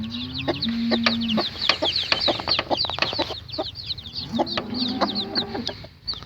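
A small hen clucks in low repeated notes while a crowd of newly hatched chicks peeps constantly in high, quick chirps, all close by and without voices.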